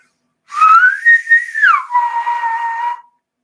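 A loud whistle rises, holds a note, then slides down to a lower sustained tone before stopping; no other sounds.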